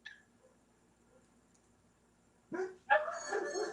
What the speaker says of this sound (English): You probably hear the dogs too.